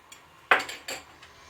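A spoon scrapes and clinks inside a pot of thick pudding with margarine. Two or three short, sharp metallic taps and scrapes stand out close and clear over a quiet background.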